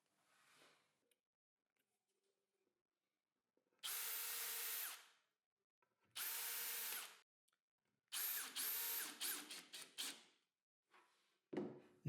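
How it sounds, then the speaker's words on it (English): Several loud bursts of a column drill boring into acrylic, each a few seconds long with brief pauses between, ending in a series of shorter stop-start whirs. "I drill and countersink the necessary holes with a column drill"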